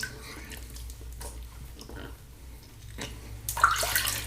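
Water splashes and drips during a wet shave rinse, with intermittent faint trickles and a louder, fuller gush of running water near the end.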